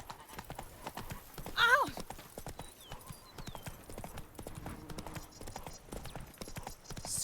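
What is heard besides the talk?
horse hooves galloping in video game The Witcher 3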